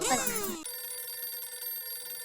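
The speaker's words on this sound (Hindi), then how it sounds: "ये उनका ही फोन है। फोन आ गया।" A telephone bell rings in one short burst, loud and close, then gives way to a steady tone with faint background hum.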